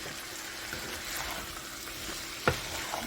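Canned potatoes fry in a pan with garlic powder as they are stirred, giving a steady close sizzle with light scraping and one sharp clink of the utensil near the end. No one speaks.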